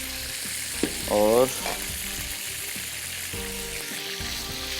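Chicken fries crackle and sizzle in hot oil in a pan, a continuous bubbling hiss broken by a brief spoken word and a short clatter.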